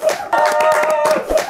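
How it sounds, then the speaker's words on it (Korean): A studio audience on a Korean talk show claps briefly and eagerly, a short burst of hand claps with voices chattering over it. "이런 박수 쳐야 됩니다."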